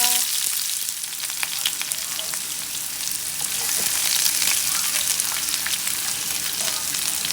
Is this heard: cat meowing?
no